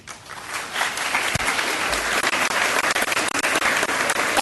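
An indoor audience at a gathering claps steadily and densely for several seconds, a continuous wash of applause without cheering.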